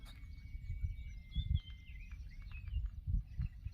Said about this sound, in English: on the top of the trees are a lot of birds,